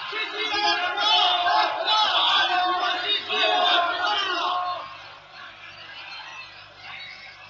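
A large crowd shouts and clamors together in a loud, sustained roar that swells for several seconds, then thins to a quieter murmur with a low hum beneath.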